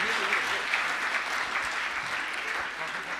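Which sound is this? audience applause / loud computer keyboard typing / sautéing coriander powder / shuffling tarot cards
audience applause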